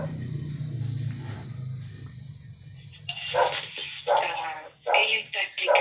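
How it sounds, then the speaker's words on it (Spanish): A small dog barking at a cat, giving several sharp yips and whimpering barks in quick bursts in the second half, fairly close, with a low voice or background murmur underneath early on. "el perrito está ladrándole a un gato que lo tiene como loco"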